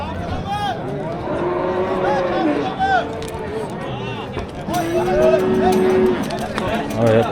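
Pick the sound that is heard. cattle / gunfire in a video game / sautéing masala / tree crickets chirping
cattle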